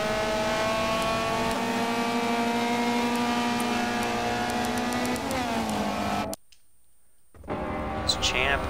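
Race cars at speed in the Michelin Pilot Challenge at Sebring, a loud sustained engine drone with a tonal whine shifting pitch, briefly cutting out before engines return; a commentator talks over it.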